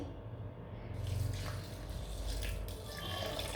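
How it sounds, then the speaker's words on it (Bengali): Lukewarm water is poured into a blender holding rice soaked for several hours, a soft splashing trickle close by that runs steadily for a few seconds in a quiet kitchen. "আর পানি দিয়ে দিচ্ছি।"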